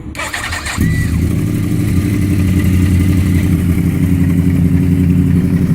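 A Yamaha R1 motorcycle engine cranks briefly, then catches and settles into a steady, loud idle with a low, rumbling mechanical clatter.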